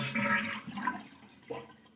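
Water rushes and drains from a toilet tank after the supply valve is shut off, a close, steady gurgling wash that fades and swells again briefly toward the end.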